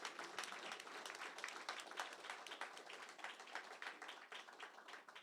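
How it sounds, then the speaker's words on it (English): An audience at a UAM gathering gives a warm round of applause, dense overlapping clapping from many people sustained at an even level for several seconds, with no voices over it. "Let's give Sister Keisha a warm round of applause."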